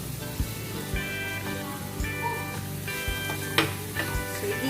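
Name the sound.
garlic sizzling as it is added to the pan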